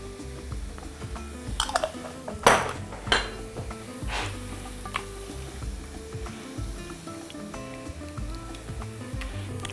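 Stuffed eggplant filling with cream stirred in a sizzling pan using a silicone spatula, with soft scraping and occasional clinks of the pan over a steady low sizzle, close and moderately quiet.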